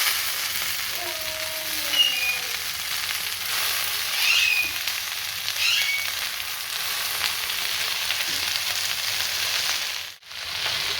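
Leafy greens fry in a little oil in a pan, giving a soft, steady sizzle that runs continuously throughout, with faint stirring and kitchen clatter mixed in.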